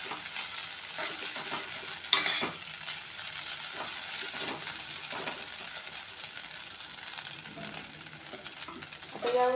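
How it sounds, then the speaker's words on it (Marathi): Grated potato stir-fry is stirred in a pan after salt is added: a steady sizzle of frying runs throughout, broken by scraping stirs and occasional clinks of the spoon against the pan. "मीठ घातल्यानंतर मी आपल्याला मिक्स करून घ्यायचं."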